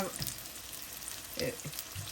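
Chicken pieces fry quietly in a pan with a low steady sizzle, broken by a few soft clinks and thumps as the pieces are turned over.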